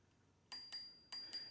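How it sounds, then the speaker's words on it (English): A small bell on a Hiboy S2 Max electric scooter is rung four times in two quick pairs, producing bright, ringing dings that stand out sharply against near silence. "we have a little bell."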